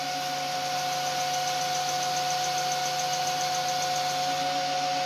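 A Hyper Drive electric motor driven by a TI controller runs under brake load, giving a continuous steady whine with a constant hum that stays even and fairly loud throughout, with no talking.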